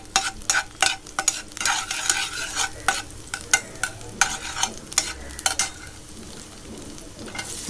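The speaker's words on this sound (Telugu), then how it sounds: "కొంచెం ఆయిల్ వేసుకొని అందులోకి వెల్లుల్లిపాయలు" Garlic frying in oil for veg manchurian crackles with a continuous sizzle, broken by repeated sharp scraping clacks of a spatula against the pan in an uneven, busy rhythm.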